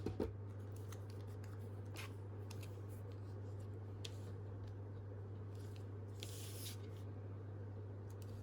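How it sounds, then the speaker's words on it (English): Small scissors snip paper for round ephemera cuttings in quiet, close, irregular clicks, set against a steady low electrical hum, with a brief rustle of paper near the end. "So I just need to get some little scissors."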